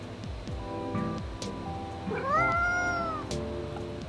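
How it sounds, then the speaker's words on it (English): A cat meowing in the game Coffee Talk 2, one clear rising and falling meow near the middle, close and loud over soft background music. "I'm starting to think it's just a cat."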